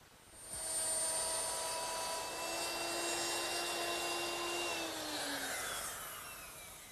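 Router fitted with a 1/4 inch round nose bit cutting hinge recesses in wood for a drop leaf table: a steady, close, high-pitched motor whine that holds for about five seconds, then dips in pitch and fades, with no talking.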